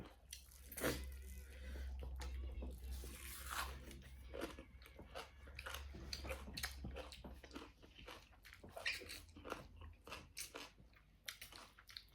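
Close, wet crunching and biting from someone eating spicy Thai papaya salad (som tam) with chicken feet and fish balls, with irregular chews and slurps and no talk.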